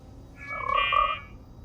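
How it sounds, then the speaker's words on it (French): A single electronic-sounding frog croak, a short tonal trill lasting under a second over a quiet background hum. "La grenouille émet exactement le même son."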